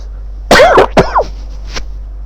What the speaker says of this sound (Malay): Masih batuk lagi sikit.